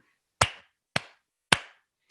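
Three sharp hand claps ring out at an even pace, each crisp and close with a short decay, separated by near silence.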